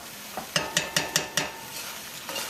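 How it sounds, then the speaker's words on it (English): Spoon stirs stewed black-eyed peas with carrots, ham and brown sugar in a pot, five quick clinking scrapes against the metal over a faint simmer. "going to give that a quick stir"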